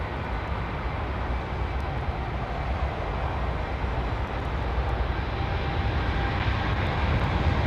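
Loud, steady jet engine roar fills the whole stretch, a broad unbroken rumble with no pauses.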